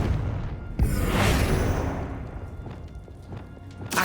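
A Confringo fire-blast spell is cast in Hogwarts Legacy: a sharp thud, then a rushing whoosh and crackling burst that fades over a few seconds, with another hit at the end and no voices.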